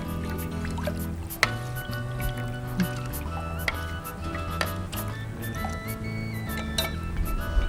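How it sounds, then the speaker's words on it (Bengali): Stock is poured into a cooking pot of water while wonton soup is being made, giving close liquid pouring and filling sounds with intermittent drips and small splashes. "স্টকটা পানিতে দেয়া, হাঁড়িতে দেয়া হচ্ছে।"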